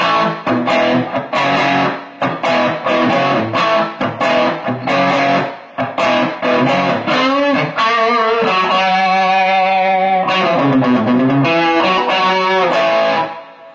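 An electric guitar played through an overdrive boost pedal, choppy strummed chords giving way to sustained, saturated notes ringing out loud and close.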